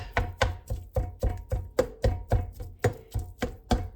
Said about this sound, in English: This is about a ½ pound of beef, and that's plenty. Get that chopped up.